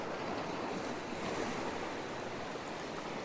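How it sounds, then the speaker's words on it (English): Steady roar of sea waves crashing over rocks along a dramatic coastline, a continuous, loud wash of surf and wind with no voices. "timing it so the waves crash over the rocks"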